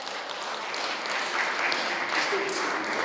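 Audience applause at an NGO broadcaster's opening ceremony, a sustained wash of clapping from a crowd, with a voice briefly heard through it.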